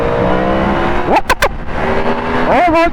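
A 2023 Yamaha MT10 motorcycle fitted with EBC brake pads brakes hard for a bird. The close engine note rises, drops sharply as the bike slows, then revs up again over constant wind roar.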